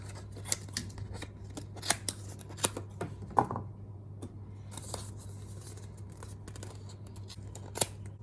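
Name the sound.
scissors cutting, trimming off handles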